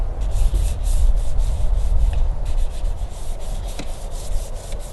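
A wet sanding sponge scrubs steadily across chalk-painted furniture, a continuous close, fairly loud rubbing rasp with no voices.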